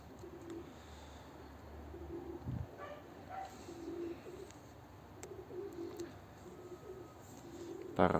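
Soft, low pigeon coos repeat against a steady outdoor background hiss, faint and a little distant, with no one talking.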